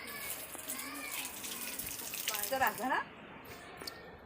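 Water splashes and runs from a tap as feet are washed, with people and someone talking over it before the flow quietens.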